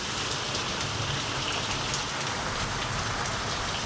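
A heavy downpour in a rural Bengal village keeps up a constant, close roar of raindrops drumming on surfaces, with no voices over the rain.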